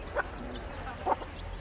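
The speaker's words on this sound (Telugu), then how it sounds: "ఈ కోడి పుంజు 3 పిల్లల్ని వేసుకొని తిరుగుతుంది" A rooster caring for three chicks gives two short, soft clucks about a second apart over quiet background, with no one speaking.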